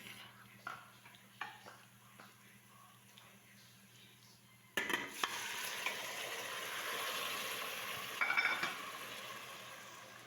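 Beef goes into a hot pot: after a few light clinks and stirs, a loud, steady sizzle starts suddenly and keeps going, with a couple of sharper crackles near the end.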